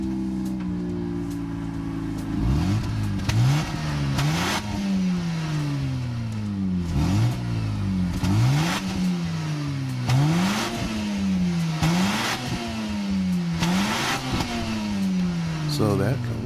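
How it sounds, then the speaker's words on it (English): Mazda Infiniti RX-7 Type R in Gran Turismo 7 revving hard through repeated rising gear pulls, each climb ending in a sharp shift drop, loud and close with a steady sawtooth rhythm. "So that comes courtesy of the Mazda Infiniti RX-7 Type R there."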